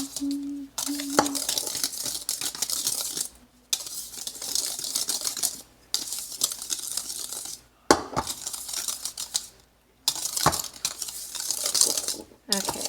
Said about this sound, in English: Just going to take your whisk and you're going to mix up those ingredients until they're combined.